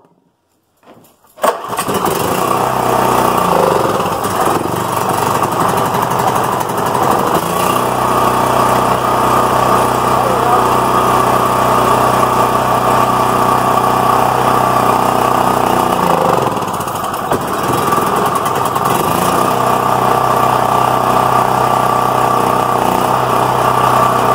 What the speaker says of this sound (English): a brand spanking new generator out of the box